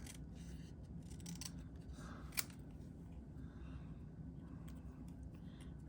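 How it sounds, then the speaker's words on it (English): Card paper being trimmed produces a quiet, faint cut or snip against low background noise, with one brief sharper crisp sound partway through. "I am going to trim this a little bit."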